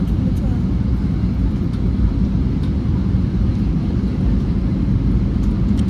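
An airliner lands and taxis at Dubai airport, heard as a steady, loud, broadband cabin rumble that stays even from start to finish.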